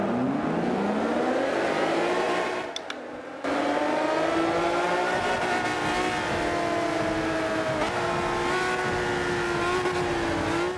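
Engine of a maxed-out Hummer in the racing game Forza Motorsport 5 revs loudly and continuously, pitch climbing and holding high, with a brief cut near the start before the roar resumes.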